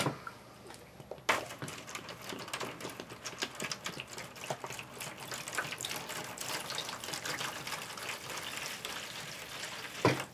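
A seaweed-based solution is poured over freshly sown squash, watermelon and pumpkin seedlings, a close, continuous splashing and gushing of water soaking into the soil, with no talking.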